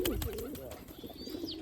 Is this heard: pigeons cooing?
yes